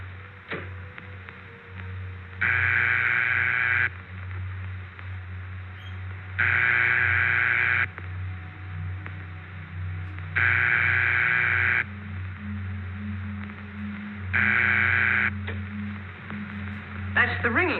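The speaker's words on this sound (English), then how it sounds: "Soon after the last number is dialed, you will usually hear this tone." Old Bell System telephone ringing signal heard by the caller after dialing: four long, evenly spaced tone bursts of about 1.5 seconds each, separated by pauses of roughly 2.5 seconds, over a steady low hum on a vintage recording.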